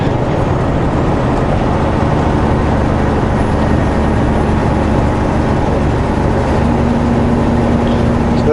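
Car driving east along a road in the south end of Calgary, a loud, continuous low road and engine rumble heard from inside the vehicle throughout.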